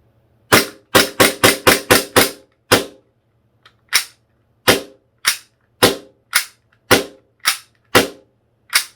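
A WE DP17 airsoft pistol fires about seventeen sharp, loud cracks on green gas with blowback action. The first shots come in a quick burst, and the rest follow at slower, uneven intervals with brief quiet between them.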